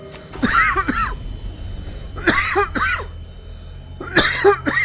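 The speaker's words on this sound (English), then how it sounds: "Excuse me, I had a cough." A person coughs close to the microphone in three separate bursts of two or three hacking coughs each, with quiet pauses between.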